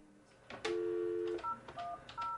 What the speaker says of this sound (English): Mr. Ha gets news from the north by calling contacts living on the border with China